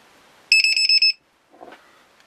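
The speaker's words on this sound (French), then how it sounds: "Le petit buzzer que j'ai sorti" A small buzzer alarm on a FlySky GT3B RC transmitter modified for a LiPo battery gives a rapid burst of about six shrill, tonal beeps close by, followed by a faint, brief rustle.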